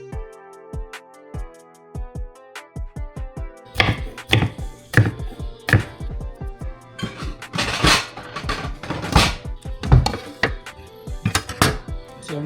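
A kitchen knife chops food on a cutting board during home cooking: a handful of crisp, evenly spaced taps, then faster, louder runs of chopping with short pauses, close and clear with no speech.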